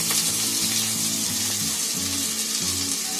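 Onion sizzles steadily in hot oil in a home kitchen pan, a dense continuous frying hiss with a low background hum and no talking.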